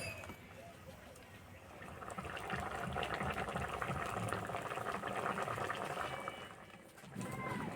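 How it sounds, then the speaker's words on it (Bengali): Sour okra curry with tamarind bubbling steadily in a pot, a continuous close bubbling and hissing that swells midway and dips briefly near the end. "আর দু একবার ফুটে নিলে হয়ে যাবে"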